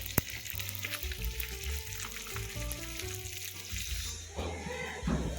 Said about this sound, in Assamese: এয়া মাছখিনি ভাজি আছোঁ, ভাঙোন মাছ আছিলে অলপমান,